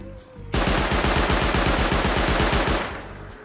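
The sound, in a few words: auto turret firing in the video game Rust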